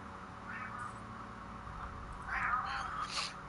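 A house cat meows softly a few times at a distance, thin drawn-out cries over a quiet background hum, with no talk.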